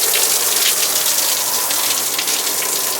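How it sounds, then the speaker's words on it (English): An outdoor shower runs with spring water drawn from a spring-fed pond, pouring as a loud, continuous gush and patter close by without any break. "Now this water comes from our pond, which is spring fed, so it's all spring water."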